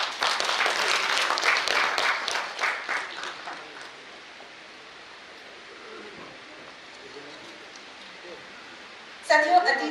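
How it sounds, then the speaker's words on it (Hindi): Loud audience applause at a cultural honours ceremony celebrating a ghungroo dance artist, dense clapping for about four seconds that fades into quiet room tone, with a brief burst of noise near the end. "माधव दादा के लिए सबसे पहले तो जोरदार तालियां।"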